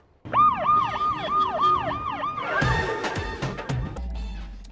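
A siren mounted on a car wails in rising and falling sweeps close by, then breaks into clattering and thuds as the vehicle moves off.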